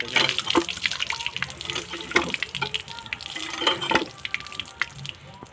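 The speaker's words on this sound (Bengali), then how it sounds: "ভালো করে আলুটা ধুয়ে নেওয়া হবে।" Tap water splashes into a sink while potatoes are rinsed by hand, with irregular close splashes and gurgles rising and falling over a few seconds and no talk.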